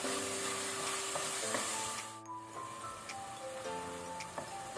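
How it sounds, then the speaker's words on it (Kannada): A tomato frying with ginger garlic paste in a pan for peas pulao, a close, even sizzle with soft stirring scrapes, dipping briefly midway. "ಈಗ 1 ಮೀಡಿಯಂ ಸೈಜ್ ಟೊಮ್ಯಾಟೊ ಹಾಕೋಣ. ಇದು ಸ್ವಲ್ಪ ಫ್ರೈ ಆಗಲಿ."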